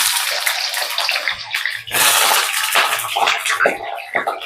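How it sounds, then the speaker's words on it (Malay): Water popping and sizzling in a hot frying pan while potatoes are fried in a home kitchen, a continuous loud crackling hiss with bursts of spitting. "Ada air meletup-letup."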